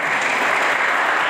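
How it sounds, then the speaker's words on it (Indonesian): Applause fills a church service for a performer, a steady close wash of many hands clapping with no pauses throughout. "tepuk tangan untuk Mas Tito"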